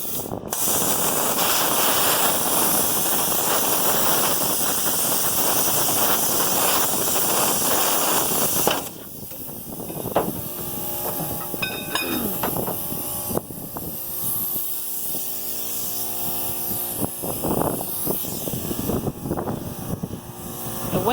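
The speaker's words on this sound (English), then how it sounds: "The wind is crazy here today" Strong gusts of wind buffet outdoors, a loud broad roaring hiss that cuts off abruptly partway through, leaving quieter rustling and scattered knocks.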